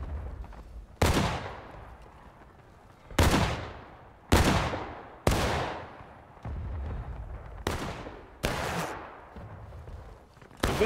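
Musket volleys from soldiers in the War of Rights battle game, about eight sharp loud reports at uneven intervals, each ringing out in a long decaying echo, with no talking.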